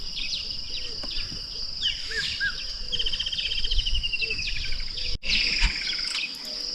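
Birds chirp and trill over a constant background of buzzing insects and crickets at a wooded safari camp by the Crocodile River, with a faint low rumble underneath.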